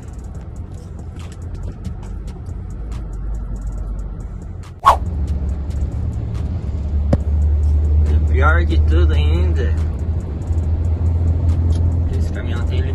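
A truck with an 80 km/h speed limiter drives along with a steady low engine rumble heard from inside the cab, a sharp knock midway, and someone speaking over the drone.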